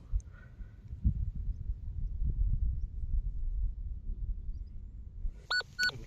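A metal detector sweeps a dig site while hunting for old silver coins. Soft handling rumble fills most of the stretch, then a few short, sharp electronic beeps sound near the end.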